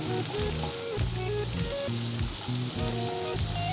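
Jackfruit seeds and chana dal frying in a pan for a dhenki shak dish, a steady close sizzle with bursts of stirring and scraping, with no talking.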